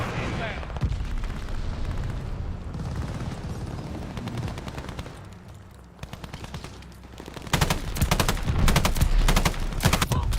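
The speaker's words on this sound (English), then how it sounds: "Friendly sending a glide bomb." Explosions and heavy gunfire in the Call of Duty Vanguard multiplayer game, with a glide bomb striking. The blasts are loud and continuous and grow more intense toward the end, while players talk over them.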